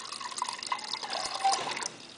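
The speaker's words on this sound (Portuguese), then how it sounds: "Cai a água." Water pours from a refrigerator's front dispenser into a glass, a steady close trickle and splash that shifts in pitch as the glass fills, heard on its own without talk.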